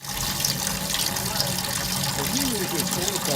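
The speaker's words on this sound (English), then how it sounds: "fill those puppies up with some water" Water gushes steadily into containers while filling brewing vessels, about five gallons, for a mobile home-brew day, a continuous close rushing pour with a faint rising tone toward the end.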